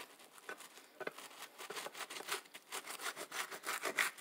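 Knife cutting through a crispy chicken quesadilla filled with Velveeta cheese, giving a run of close, dry crunching and scraping strokes with no talking.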